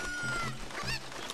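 A chicken in Zelda: Ocarina of Time gives short clucks, a couple of quick fowl calls close up, with a faint voice mixed in.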